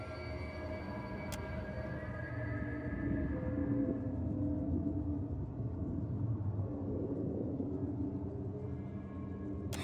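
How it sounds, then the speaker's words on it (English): A thunder-like rumble rolls through a room as the floor crumbles away in the video game Pillars of Eternity 2: Deadfire, a low, steady roar lasting several seconds with no talk. "a sound like thunder rumbles through the room"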